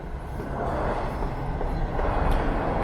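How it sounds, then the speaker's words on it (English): A Toronto subway train pulling into Davisville station, a steady loud rumbling roar of wheels and cars filling the platform and building slightly toward the end. "So I'm going to start to wrap things up here as my train comes in."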